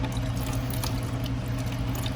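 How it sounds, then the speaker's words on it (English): Seafoam cleaner glugs and splashes in a continuous, even stream as it is poured liberally into a motorcycle carburetor, close by and with no talking. "we're just going to pour it liberally into the carb"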